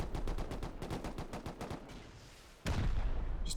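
Rocket barrage slamming into a base built from wooden walls and coloured shipping containers in Rust during a 7v7 tournament raid: a rapid string of thudding explosions, then one sudden louder blast that sustains to the end, with no talking.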